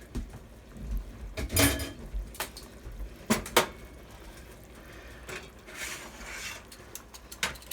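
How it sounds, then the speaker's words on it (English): Metal clinks and clatters as a small grill tray is lifted out of a cooking pot and set aside, a few sharp taps and scrapes over quiet kitchen background. "So let's go ahead and remove the little tray that we had in there, the grill."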